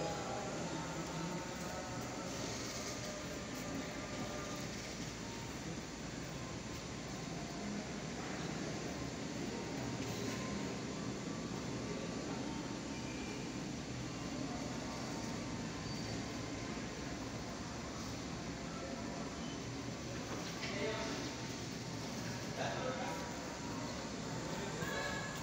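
High-speed train slowly pulling into a station after crossing a steel bridge, a broad continuous rumble and hiss heard from nearby, steady throughout with no clear talk.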